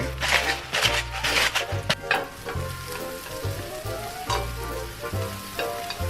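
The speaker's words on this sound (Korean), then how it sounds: "빵을 구워줄게요. 빵을 살짝 튀긴다고 생각하시면 돼요." Bread frying in a pan of hot oil sizzles steadily and up close, broken by the scrape of a spoon stirring at intervals, with no talk.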